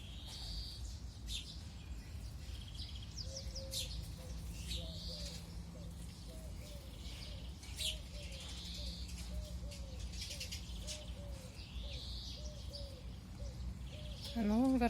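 Sparrows and tits chirp and twitter repeatedly in the early morning outdoors, bright short calls over a faint low background, with a steady repeating coo-like call through the middle and a brief louder noise at the end.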